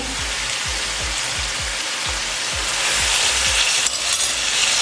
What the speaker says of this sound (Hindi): अब इन तमाम चीज़ों को 3 से 4 मिनट तक फ्राई करेंगे।